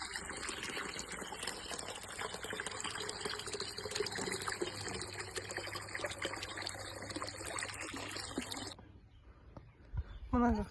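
Water from a bucket splashing steadily onto plants in a garden bed outdoors, a continuous broad pouring rush lasting several seconds before it stops abruptly, followed by a few faint knocks.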